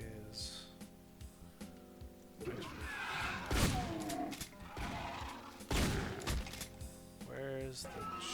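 Shotgun blasts from an enemy shotgunner in a brutal Doom mod, several loud booming shots with thuds and crashes over a steady droning game soundtrack, no talking.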